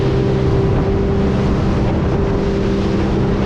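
Sailfish 290cc center-console boat engine running steadily at cruise speed around 3,900 RPM, a loud, continuous drone with a constant low hum and rushing wind and water noise, no talk.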